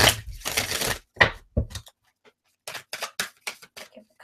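Tarot cards get a few sideways shuffles, giving short bursts of papery riffling and crisp card snaps, close and alone, separated by brief pauses.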